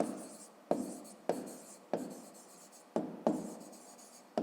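A pen writes a fifth-grade maths answer by hand, with repeated short scratching strokes that each start sharply and fade. The strokes are close and quiet, and no one talks over them.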